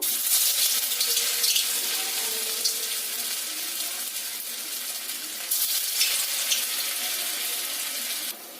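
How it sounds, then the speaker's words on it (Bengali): Beetroot cutlets fry in hot white oil, giving a loud, continuous broadband sizzle with bursts of harsher crackle as more pieces drop in, steady and close throughout. "এবার একে একে এই বিটের কাটলেটগুলোকে তেলের মধ্যে দিয়ে দেব"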